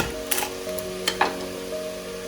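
Washed leeks sizzle in a hot pot as they are stirred, a steady close frying hiss with a few short scraping clatters from the spoon, quiet and without talk.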